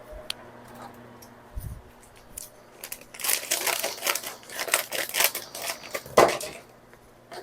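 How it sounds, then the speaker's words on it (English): Quiet, irregular crisp snips and crinkly crunches from scissors cutting, clustered in bursts over several seconds, with a faint low thump early on. "I'm going to get a pair of scissors."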